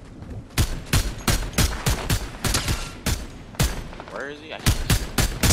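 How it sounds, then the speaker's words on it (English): Rapid gunfire in Fortnite, a steady string of loud, sharp shots close by, with one brief moment of someone talking over the shooting. "Wait, I'm getting shot."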